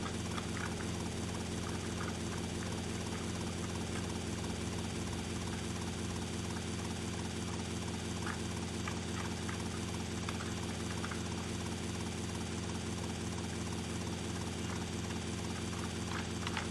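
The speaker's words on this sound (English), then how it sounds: "keep the helicopter there" Helicopter rotor and engine drone in Grand Theft Auto Vice City, a steady, continuous whir that holds unchanged at even loudness throughout, with faint game effects layered over it.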